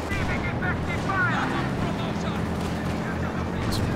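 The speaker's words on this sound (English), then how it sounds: "this Su-76 just pumping away at the Panzer IV" SU-76 tank gun firing at a Panzer IV in the Company of Heroes 2 game: a dense, rumbling battle bed with booming shots running under continuous voice commentary.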